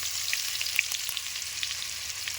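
Onion fries in hot oil with dried red chilli and cumin, giving a steady close sizzle with a few sharp pops and crackles.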